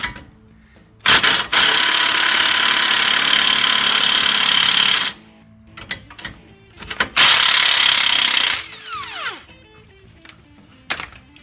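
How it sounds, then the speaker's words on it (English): An impact wrench hammers at the wheel hub nut on an eighth-generation Honda Civic, loud and close. It runs in two long bursts of rapid rattling blows, separated by a brief pause with clicks, then spins down. "So we're gonna hit it with an impact."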